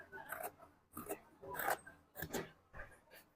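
Scissors snip through fabric as a handkerchief skirt is cut open, giving a series of about five close, crisp cutting strokes at a steady rhythm.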